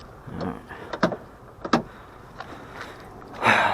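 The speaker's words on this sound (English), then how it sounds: "Rolls up the same way it did before." Power window motor on a 1991 Chevy S10 door, a faint whirring run punctuated by clicks and knocks from the door, ending in a louder buzzing stretch, heard up close in a quiet setting.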